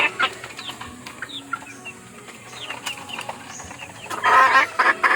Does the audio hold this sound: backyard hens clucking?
yes